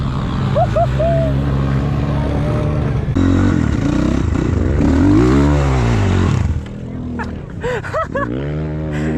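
A BMW car pulls up at a small motorcycle meetup, its engine revving loudly and close before dropping away, with idling bikes and rattling in the background and people talking briefly.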